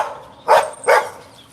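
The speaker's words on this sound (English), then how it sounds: "Somebody's walking by my fence to provoke the dogs on purpose, I believe." Dogs provoked by someone walking past a backyard fence let out two loud, close barks spaced about a third of a second apart, with no talking around them.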